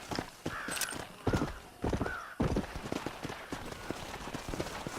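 Horse hooves clip-clop steadily in Red Dead Redemption 2, a quick continuous gait with a couple of whinnies mixed in, close and clear over game ambience.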